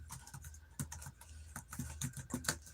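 Fingers tap a computer keyboard in quick, irregular bursts of soft clicks, close and fairly quiet over a faint background hum.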